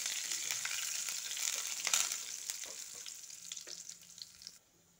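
Urad dal, two dried red chillies and a sprig of curry leaves crackling in hot oil, a soft steady sizzle with light spattering pops that fades out abruptly near the end.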